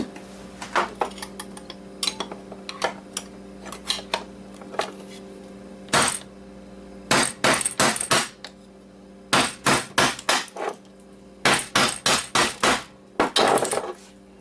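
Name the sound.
hammering on an Xbox drive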